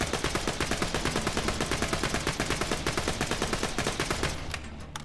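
Purging TMP submachine gun fired from the hip in Borderlands 2, a fast continuous rattle of loud close shots in an even rhythm for about four seconds before trailing off.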